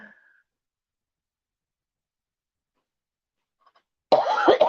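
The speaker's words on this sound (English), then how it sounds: "Sorry for the coughing." After near silence, a single harsh cough from a sick person bursts out close to the microphone at the end.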